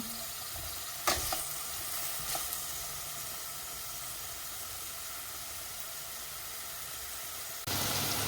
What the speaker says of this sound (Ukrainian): І воно собі смажиться.